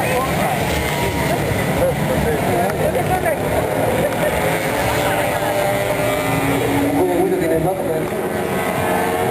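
About thirty motorcycles race on an Estonian circuit, their engines a dense, loud, unbroken roar with shifting whines, while voices talk over the din.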